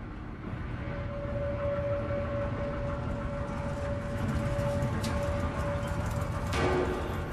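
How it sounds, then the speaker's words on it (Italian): A train rumbles past in the game Amnesia: A Machine for Pigs, a steady low rolling clatter with a faint sustained whistle-like tone, continuous and moderately loud throughout. "No, è un treno."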